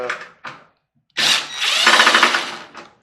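Power driver spinning out Torx security screws with a center pin from a microwave being scrapped, giving two short bursts and then a longer, loud whirring run close up.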